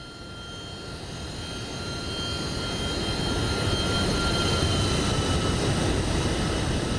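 An MD-11 airliner makes a flyby in the RotateSim flight simulator game, a smooth jet engine roar swelling gradually louder and holding steady, with no talk over it.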